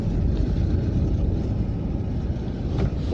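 A car engine hums steadily from inside the cabin on a gravel roadside in the Norwegian hills, a low continuous rumble with road noise and no talking, just before parking for hare hunting.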